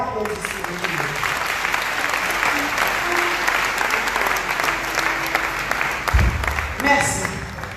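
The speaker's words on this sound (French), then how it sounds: "Pas un plus bel applaudissement." A congregation at a Sunday worship and praise service in church claps in sustained, dense applause, with voices mixed in, before the clapping fades and a short low thump sounds near the end.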